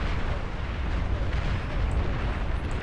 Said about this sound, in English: These long-range plasma cannons having a field day,